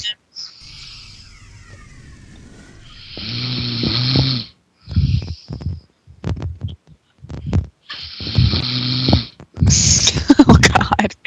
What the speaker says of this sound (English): Even his snoring sounds like him.